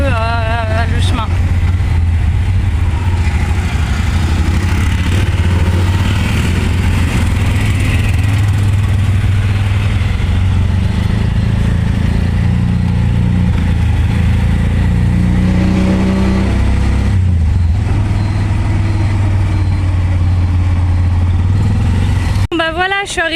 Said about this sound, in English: c'est le premier tuk-tuk que je prends à Phnom Penh